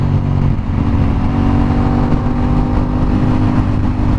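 Aprilia RS 660 motorcycle engine running loud and steady at close range, a continuous throaty drone that hums along without pause and with no voices over it.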